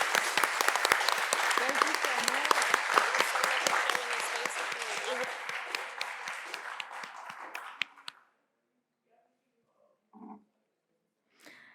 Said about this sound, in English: Let's give a big round of applause for this amazing panel.